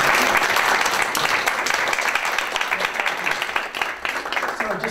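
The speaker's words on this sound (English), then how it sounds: "We can applaud." A lecture audience applauds loudly at first, the dense clapping gradually thinning and softening toward the end, with faint murmurs mixed in.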